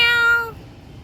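A cat up a tree after being chased by a dog gives one clear, loud, close meow that fades out after about half a second, alone.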